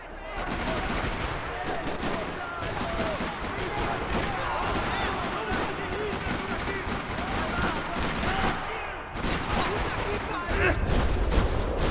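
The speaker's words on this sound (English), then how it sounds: "Another parking lot rattling with gunfire." Rapid bursts of gunfire rattle continuously in a parking lot in Max Payne 3, dense overlapping shots filling the scene, loud and close with no pause.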